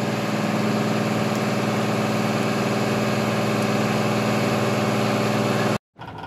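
A boat engine idles just after the boat is returned to the water, its propeller freshly cleaned: a steady, loud, close mechanical drone that cuts out abruptly near the end, then resumes.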